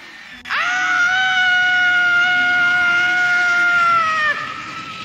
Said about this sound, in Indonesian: Menjerit-jerit si alien sampai kejang-kejang badannya.